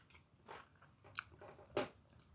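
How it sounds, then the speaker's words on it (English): Someone bites and chews a Lidl sausage roll, a Dutch saucijzenbroodje, with a few soft, close crunches and moist mouth noises spaced across a quiet moment and no talking. "You might notice me chewing with trepidation"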